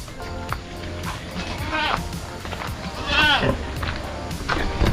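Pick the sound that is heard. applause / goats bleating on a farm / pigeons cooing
goats bleating on a farm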